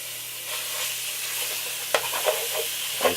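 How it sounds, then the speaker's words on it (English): Ground beef browns in a pot over medium high heat for chili, a steady close sizzle with a low hum beneath and a few clacking stirs of a utensil in the second half. "Get yourself a pot, put it on medium high. Throw in some ground beef."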